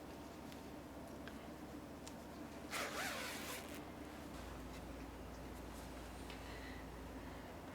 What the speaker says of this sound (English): Undo the zipper, ready to sew